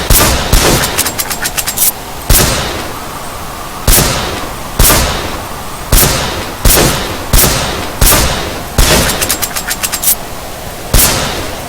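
Shotgun blasts ring out in a zombie video game, loud repeated booms spaced about a second apart, some with quick rattling bursts, each blast trailing into a short decaying tail.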